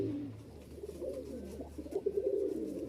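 Male Giribaz high-flying pigeons coo softly in low, throaty rolling calls, close by and fairly faint, with a steady background murmur.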